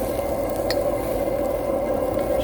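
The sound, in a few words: sauteing vegetables for roast pork wheat noodles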